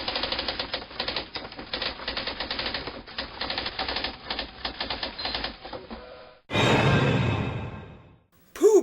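A typewriter from the film The Shining clatters in quick uneven bursts of key strikes with a few carriage sounds, close and crisp, followed by a loud breathy whoosh near the end.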